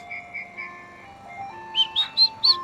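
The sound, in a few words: ice cream truck playing its jingle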